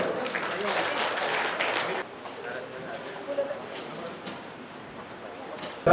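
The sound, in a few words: audience applause for senior citizens being honoured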